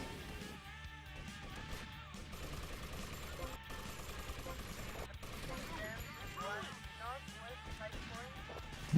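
Rapid bursts of gunfire aimed at a car in GTA: Vice City, mixed with game music and effects while someone talks over it throughout.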